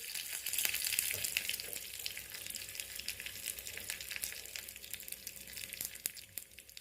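Cumin seeds and curry leaves sizzling in hot oil, a soft continuous crackle and hiss with scattered sharp pops, close and fairly quiet.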